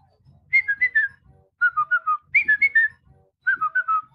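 A whistled family signal made of four repeated phrases, each of three or four quick rising-and-falling notes, clear and close, with short pauses between phrases and faint low background sound.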